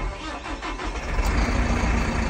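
A Massey Ferguson 5711 tractor engine cranks briefly, then catches about halfway through and settles into a loud, close diesel running sound, with no talking.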